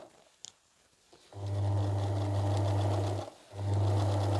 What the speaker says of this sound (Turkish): Makinamı düz dikiş ayarına ayarladım ee, ve dikişime başlıyorum.